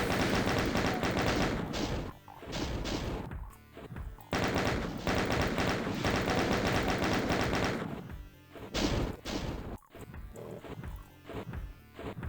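Rapid, dense gunfire erupts in sustained bursts while imps are sniped in the Doom video game, E2M6 Base Ganymede, loud and continuous with brief pauses between volleys.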